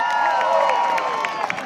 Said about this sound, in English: Let's give a big round of applause to Senator Chuck Schumer.